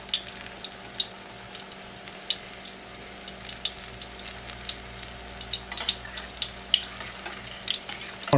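Banana fritters in heavy batter frying in a pan, a low, continuous bubbling sizzle under a steady hum, dotted with faint pops and light ticks, no one speaking.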